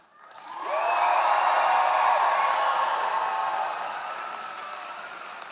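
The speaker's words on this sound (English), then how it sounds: "let's raise this roof. Let's hear the biggest cheer of all." Graduates at a university convocation erupt in a loud crowd cheer with whoops and applause, rising quickly, holding strong for several seconds, then slowly easing off in a large hall.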